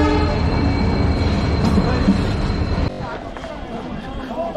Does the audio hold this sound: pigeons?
no